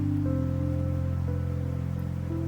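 Rain falls outside as a steady, even hiss throughout, with a constant low electrical hum running beneath it and no one speaking.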